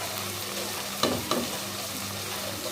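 Goat head meat frying in a pan with steady sizzling throughout, broken by two sharp scraping clinks of a stirring utensil near the middle.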